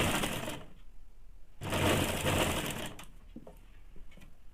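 A sewing machine stitches the underarm seam of a saree-matching blouse, with its rapid mechanical whirr running in two close bursts separated by a brief pause, then falling to a lighter clatter.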